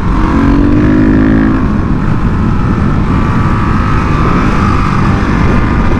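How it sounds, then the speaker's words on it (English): A supermoto motorcycle accelerates hard, its loud, continuous engine roar rising in pitch early on before holding a steady, buzzing drone with a strong low rumble throughout, no voices heard. "Doesn't have a really high top speed, about 100, but it just accelerates really fast."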